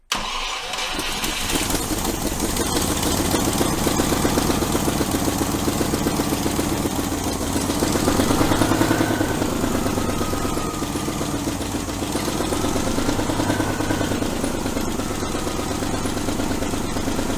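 A 1971 Range Rover engine cranks and catches, then runs steadily with a rough, slightly uneven idle that swells briefly in revs before settling, close and loud with no talking.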